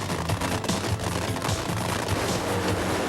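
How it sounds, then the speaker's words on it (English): A drag racing car's engine explodes with a blown head gasket at the 1991 NHRA Fram Supernationals, a loud rapid barrage of harsh cracking bursts and roaring noise, close and continuous. "tremendous engine explosion"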